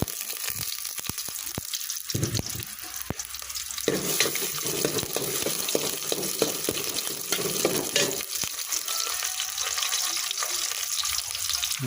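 Onion and garlic sizzle in hot cooking oil as they are sautéed and stirred in a pan, a steady close crackle with scraping stirs throughout.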